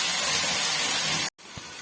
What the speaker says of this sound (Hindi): इस तरह से 1 मिनट हम फ्राई कर लेंगे लहसुन अदरक को।